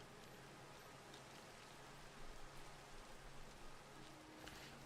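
Steady rain falling in the Minecraft world, a soft even hiss of drops pattering on surfaces throughout, fairly quiet with no voices.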